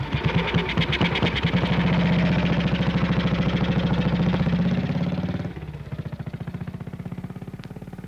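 Motorcycle engine running with a rapid pulsing putter, loud and near at first, then dropping abruptly to a quieter, steady idle-like throb.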